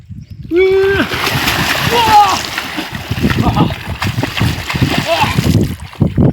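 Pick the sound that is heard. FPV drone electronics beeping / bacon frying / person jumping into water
person jumping into water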